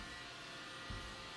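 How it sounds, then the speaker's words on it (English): A robot vacuum cleaner running at home makes a steady, faint, even whirring drone that stays level throughout with no talk, apart from one small bump. "I need to tell the vacuum to go home for now"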